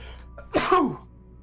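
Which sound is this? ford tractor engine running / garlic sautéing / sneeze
sneeze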